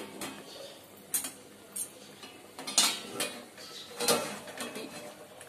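A pot of Malvani-style crab curry is uncovered, with a series of sharp metallic clinks and taps from the lid and utensils against the pan, spaced irregularly over a quiet kitchen background.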